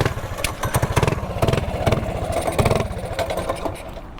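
Small mini bike engine running rough close by, a loud uneven putter broken by sharp popping backfires in quick succession.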